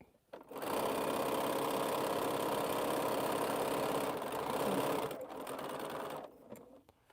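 A sewing machine stitches a quilt seam in a fast, steady whirring run of about five seconds, briefly easing and resuming before stopping, close and clear.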